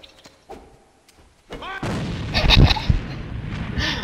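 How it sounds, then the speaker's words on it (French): Gunfire and booming blasts in the online shooter Alliance of Valiant Arms, starting with faint scattered pops and then swelling into a loud, dense burst of shots and thuds from about halfway on. "je tire, je gaspille mes munitions"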